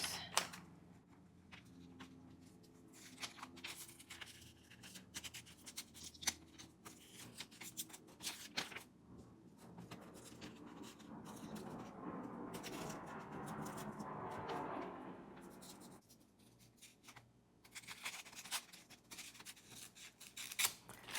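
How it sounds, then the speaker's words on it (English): Scissors snip and rustle through paper in a long run of quiet, irregular cuts, with shuffling paper noises and a denser stretch of rubbing midway. "So I have my big scissors and my little scissors."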